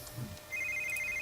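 Phone ringing in the video game The Sims 3, a short faint electronic ringtone with repeated high tones starting halfway through the brief clip, no speech.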